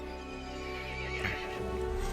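A horse in Resident Evil Village lets out an angry, loud neigh with a shrill whinny peak, set against a steady sustained tonal hum.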